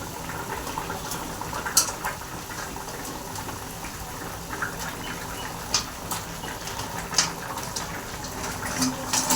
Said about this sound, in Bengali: দেখুন কি সুন্দর কড়াইয়ে দেখুন ঝোলটা ফুটে গেছে।